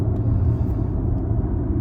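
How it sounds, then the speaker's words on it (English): Audi Q8 e-tron electric SUV slowing to a stop under strong regenerative braking, heard from inside as a steady low road rumble and drivetrain hum with no engine sound, continuous throughout. "this is regeneration, so okay, now I'm regenerating fast and stopping."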